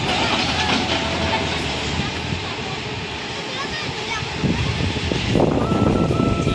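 A train rumbles past nearby with a continuous roar and rattling, people talking over it throughout, during a pilgrimage walk.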